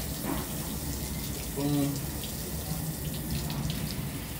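Tap water runs steadily into a sink while hands and arms are rinsed during a surgical hand scrub, a continuous close splashing hiss with a brief louder gush in the middle and a short spoken word over it.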